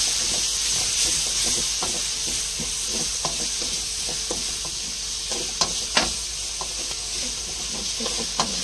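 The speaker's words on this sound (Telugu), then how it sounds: "టమాటోలు వేసి ఫ్రై చేసుకుందాం. ఇప్పుడు బాగా ఫ్రై అయ్యేంత వరకు ఫ్రై చేసుకుందాం" Tomatoes fry in a pan, a steady close sizzle and hiss broken by frequent scraping stirs, with no talk over it.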